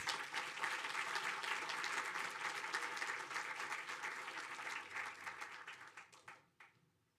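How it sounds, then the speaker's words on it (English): An audience at a university postdoctoral awards ceremony applauds nominees and winners, a full, sustained round of many hands clapping that gradually thins and dies away into scattered final claps. "Congratulations, and another round of applause for all the nominees and winners."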